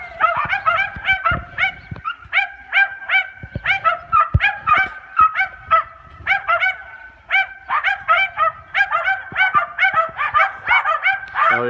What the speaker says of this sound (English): What are they barking at, Sash?